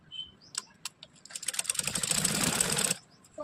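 A sewing machine stitching a princess cut blouse starts with a few scattered clicks and taps, then settles into a steady close rapid whirring run of about a second and a half before stopping.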